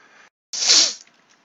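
One loud, close sneeze bursts out abruptly after a brief pause, with quieter breathy noise before and after it.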